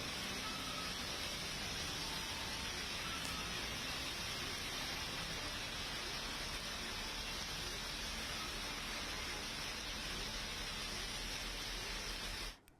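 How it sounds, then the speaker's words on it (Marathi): Heavy rain pours over city streets in Mumbai, a dense, unbroken roar of rainfall that holds at a constant level for the whole stretch before cutting off abruptly at the end. "नवी मुंबईमध्ये सकाळपासूनच जोरदार पाऊस पडतोय"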